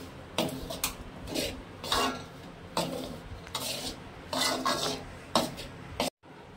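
Besan (gram flour) being roasted in ghee in a pan, with repeated scraping and stirring strokes of a utensil against the metal, rhythmic and close, with brief pauses between passes and no talking.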